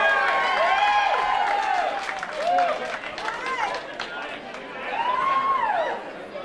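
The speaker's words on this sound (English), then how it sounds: "Big round of applause." Applause rises from a crowd at a 10-year high school class reunion, mixed with cheering and loud voices calling out over the clapping, swelling and easing twice.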